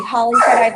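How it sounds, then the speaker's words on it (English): A pet dog whines in a short, high, wavering cry indoors, heard close and loud with a person's speech over it. "I tapped his booty because he's whining."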